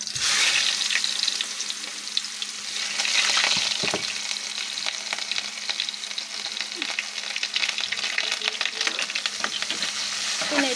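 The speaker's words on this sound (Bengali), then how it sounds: "দিছি কড়াইতে পরিমাণ মতো তেল, দিয়ে দিব কেটে রাখা পেঁয়াজগুলি।" Chopped onions hit hot oil in a wok and fry with a steady, close crackling sizzle that carries on throughout, broken by occasional stirring scrapes.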